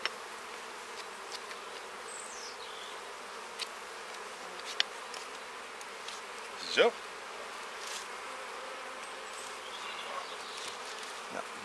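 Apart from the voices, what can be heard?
honeybees buzzing around an open Dadant beehive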